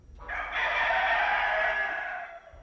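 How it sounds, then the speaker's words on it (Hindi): A rooster gives one clear, loud cock-a-doodle-doo that rises and holds steady for about two seconds, standing alone against quiet surroundings. "मुर्गे ने भी बांग दे दी"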